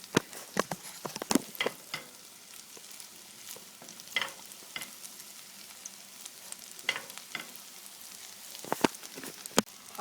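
Cheddar cheese stirred in a pot until it melts into a mac and cheese sauce, giving soft scraping and sizzling with a scatter of sharp spoon clicks against the pot, steady and close with no talking.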